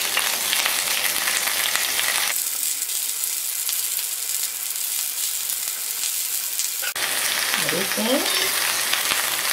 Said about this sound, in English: First put into the onion. And slice beef on top.